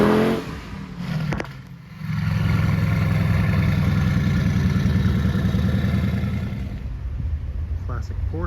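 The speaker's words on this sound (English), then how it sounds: "Best sounding Volvo." A Volvo car engine running nearby, a loud steady low drone that swells after a brief dip and holds before easing slightly at the end, with a voice talking over it at a car show.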